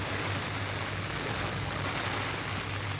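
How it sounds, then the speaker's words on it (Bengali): Heavy monsoon rain pours down in a Khulna town setting, a dense, continuous hiss of steady downpour with no breaks, loud and even across the whole stretch, with no voices. "আজকে অনেক বৃষ্টি পড়তেছে"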